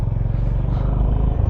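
A Honda motorcycle rides up on a mountain road descending Khardung La in Ladakh, giving a close, low engine rumble with a rattling clatter for a moment.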